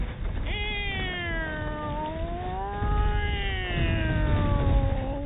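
A person's voice imitates a cat, drawing out two long wavering meows one after another, close and steady, with no other sounds around it.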